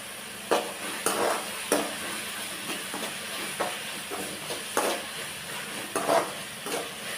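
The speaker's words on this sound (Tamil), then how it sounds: "எல்லாத்தையும் சேர்த்து நல்லா வதக்கி விட்டுக்கலாம்" Onions are sautéed with ginger garlic paste in a pan for a chicken fry, producing a low steady sizzle with repeated scraping strokes of a spoon stirring at an irregular rhythm.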